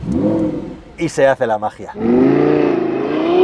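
Lamborghini Huracan Sterrato with a 5.2-litre V10 starts up and revs, the engine roaring loud and close after someone speaks briefly.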